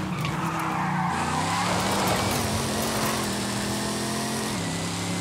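The modified Knight Rider KITT car in Forza Horizon 5 roars continuously with a loud engine drone while its tires squeal and skid steadily, with a gear-like shift in pitch partway through.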